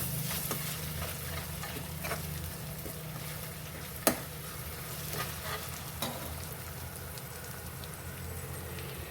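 Green chili paste fries in a pan with a steady low sizzle, broken by a few sharp clicks and taps of a spoon stirring, quiet and close with no talk.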